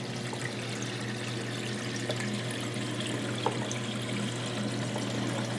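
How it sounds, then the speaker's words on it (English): Steady, continuous rush of water flowing through an aquarium filter onto a drip plate during an aquarium installation, a close, even trickling and splashing sound with no voices. "let's take a look at our water flow through the filter"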